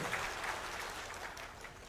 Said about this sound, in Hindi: बजा दो अब तो ताली